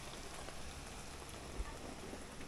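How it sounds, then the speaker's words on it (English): Pouring rain in a forest setting makes a steady, dense hiss of drops hitting the ground and surfaces nearby, with one soft thud partway through. "It's actually pouring rain."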